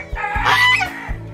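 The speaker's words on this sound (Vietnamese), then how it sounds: "Ê, con ngỗng. Nó sẽ cắn mình đó." A guard goose at a rural orange orchard and seedling nursery gives loud, close, harsh honks in one brief burst, standing alone without talk.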